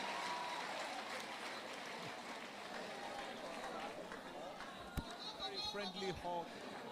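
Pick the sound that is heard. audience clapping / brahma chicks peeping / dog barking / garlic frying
audience clapping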